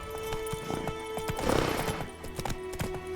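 Hooves of Roach, a horse in the game The Witcher 3, clopping in a quick rhythmic gallop beneath a layer of game ambience, with a brief whinny-like swell midway, moderately quiet.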